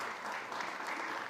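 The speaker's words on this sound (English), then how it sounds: "Big round of applause" Audience at the All Things Food summit at SXSW applauding in a short, even burst of many hands clapping, moderately loud with no voices.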